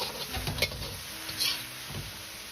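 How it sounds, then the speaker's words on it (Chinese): Sauce for tofu with glass noodles stir-fries over medium-low heat, a soft sizzle with scraping and patter of the spatula in the pan, close and moderately quiet, with no talking. "保持中小火翻炒就可以了。"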